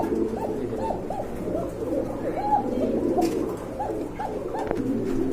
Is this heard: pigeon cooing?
yes